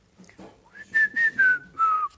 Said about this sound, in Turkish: açılırken bir ıslık sesi gelir